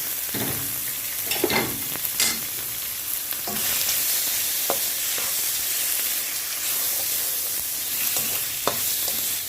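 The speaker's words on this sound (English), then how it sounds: "we can just go ahead and throw in our lobster meat" Lobster meat dropped into melted butter in a hot pan, a steady bright sizzle and hiss with scattered pops and sharp stirring clicks, close and continuous throughout.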